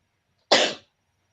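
A person sneezes once in a quiet room, a single sharp, loud burst that fades within a fraction of a second.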